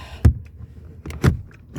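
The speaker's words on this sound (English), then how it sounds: "So my keys are falling out." Keys rattle and clink against the door card of a Toyota RAV4 as they slip out of the door pocket, three light jangling bursts at close range with no talking.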